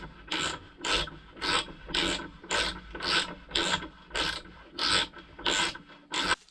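Hand tools working a nut onto the swing arm of a Kawasaki ZX10 during engine and suspension reassembly, heard as about a dozen regular rasping ratchet strokes in a steady rhythm, close by, with no talk.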